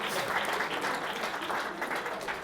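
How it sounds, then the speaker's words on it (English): An audience applauds a performer's assistant at a school math-magic show, with dense, steady clapping from a crowd throughout. "Give my partner a big round of applause."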